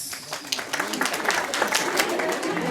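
Guests at a wedding reception in Apatug Alto applaud a participating couple, sharp individual claps building into a sustained, fairly close round of clapping with some voices underneath.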